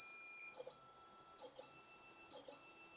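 A WizMaker Artisan 01 desktop CNC machine drives its axis, giving a steady high-pitched motor whine with a few soft clicks as it starts and stops. The sound is close and fairly quiet, with no talking.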